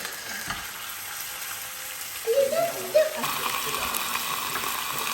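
A thick rib of beef (côte de bœuf) sears in a pan with a steady, soft sizzle and a couple of brief clatters partway through.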